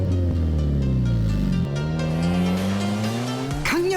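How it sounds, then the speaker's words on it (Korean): A drift car's exhaust roars loud and close with engine notes rising and falling under hard throttle, and tires squeal continuously as it slides across asphalt, the pitch shifting with each change in speed. "강렬한 배기음과 함께 등장하는 이 남자."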